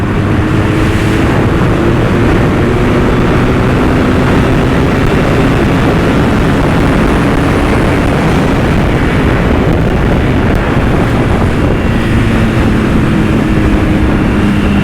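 A BMW R1200S motorcycle engine roars steadily at high speed, loud and close, blended with heavy wind rush throughout with no voices.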